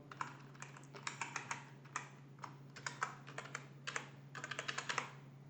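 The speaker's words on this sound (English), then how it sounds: "let's try to log into the application with Marva and Freddy as username and password" Someone types a username and password on a computer keyboard to log into an application: irregular bursts of quick key clicks over about five seconds, close and clear against a steady low hum, with no talking.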